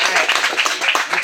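Brief burst of scattered hand clapping from a small crowd, fairly close, lasting about a second.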